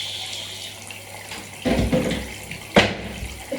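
A running tap during handwashing with body wash, a steady close rush of water that swells halfway through as hands move under the stream, ending with a brief splash.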